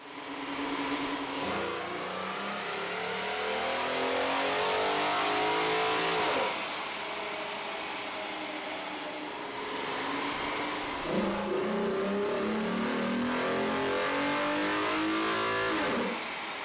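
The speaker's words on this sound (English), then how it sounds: "With the air intake installed, we ran the vehicle on the dyno to test the sound comparison versus the stock intake." A Ford Edge 3.5/3.7L V6 fitted with an aftermarket air intake revs hard on a dyno, climbing through two long sweeping pulls with a brief dip between them, loud and close with no talking.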